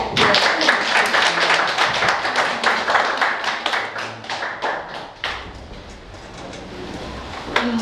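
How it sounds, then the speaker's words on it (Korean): Audience applause at a talk concert on urban farming, a quick run of crisp, fairly close claps that thins and fades toward the end. "많은 박수로"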